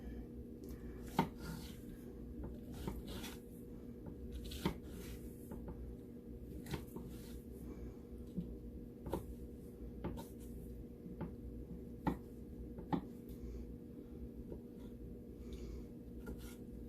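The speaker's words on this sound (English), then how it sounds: "And then we're going to chop it. You know, a coarse chop." Knife coarsely chopping cored tomatoes on a cutting board, a string of fairly quiet, uneven taps and thuds at close range, with no one speaking.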